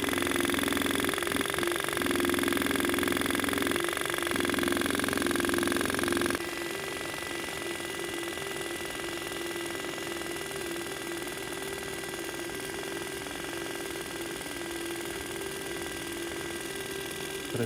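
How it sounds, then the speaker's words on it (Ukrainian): An excavator's fuel pump runs with a steady mechanical hum and whine that drops in level partway through, then continues evenly without voices. "Помпочка працює."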